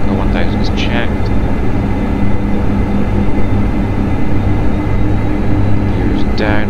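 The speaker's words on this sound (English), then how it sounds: "That's us now on final approach to Riga." A Dash 8 Q400 turboprop on final approach to Riga in a flight simulator drones steadily with a loud low engine hum, while a voice speaks over it and brief chirping tones sound near the start and end.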